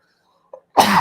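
A short, sharp burst of a sneeze, heard once close to the mic during a live World Cup group stage draw reaction, after near silence and a faint earlier sound.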